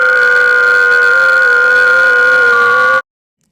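A steady Piccolo HF radio data-mode signal of sustained, even tones hums continuously for about three seconds, then cuts off abruptly into silence.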